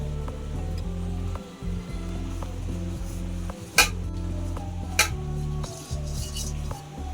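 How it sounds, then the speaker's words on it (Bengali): A cooking pot is greased with ghee while making biryani at home, giving soft metallic scraping and clinking of a utensil against the pot, with two sharper clanks, over a low steady kitchen hum. "প্রথমে আমি হাঁড়িটা একটু ঘি মাখিয়ে নেব।"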